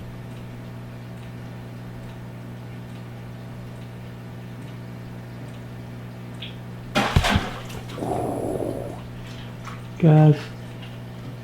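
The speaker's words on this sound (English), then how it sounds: "Clyde just knocked water out of the tank" Water splashes out of a pond fish tank as the fish Clyde knocks it, in a few short bursts over a steady electrical hum, with a voice speaking briefly.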